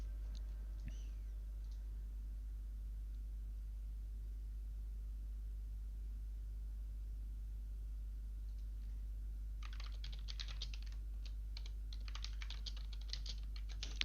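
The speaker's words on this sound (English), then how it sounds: "Sorry, I'm typing a message," Computer keyboard typing during a Torchlight 3 game stream, a quick burst of clicky keystrokes in the latter part over a steady low hum, fairly close and moderately loud.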